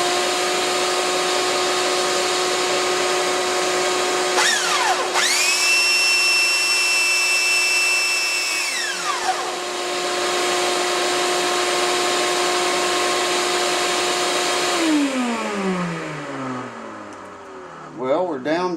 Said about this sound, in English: I'm going to suck that dust right up in there.